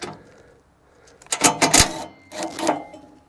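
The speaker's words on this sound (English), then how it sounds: "And do it the easy way. Impact wrench." An impact wrench works a half-inch socket on a Kubota tractor's chain access bolt, rattling in two loud, close bursts after a quiet start.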